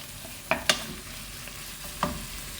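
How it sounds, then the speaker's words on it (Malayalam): Minced meat with cauliflower being stirred and broken up with a stick in a pan: a few sharp knocks and scrapes over a low, steady sizzle. "ഈ സ്റ്റിക്ക് ഉപയോഗിച്ച് നന്നായിട്ട് പൊടിച്ചിത് മിക്സ് ചെയ്യുക"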